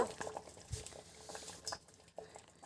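Water heating in a pot with guava leaves for tea, giving a soft, low bubbling and light patter throughout, faint and close, with no talking.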